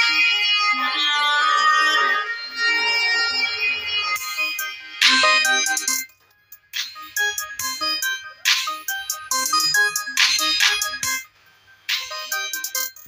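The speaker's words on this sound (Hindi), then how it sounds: "और अब यहाँ पर हम कोई भी एक म्यूज़िक प्ले कर लेते हैं।" A bright, tinkling electronic melody plays in short phrases with brief gaps, sounding thin and tinny through realme Buds Wireless 2 Neo Bluetooth headphones being tested after wiring damage.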